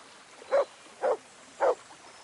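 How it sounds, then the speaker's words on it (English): A dog in Kingdom Come Deliverance 2 gives three evenly spaced, mid-distance barks about half a second apart over a quiet background. "Why is he barking?"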